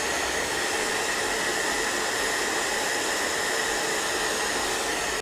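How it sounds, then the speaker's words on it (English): A handheld hair dryer blows steadily and close up for several seconds, drying purple glue laid over eyebrows to cover them for makeup; a constant loud whooshing hiss with no talking. "I'm just going to run the hairdryer over that"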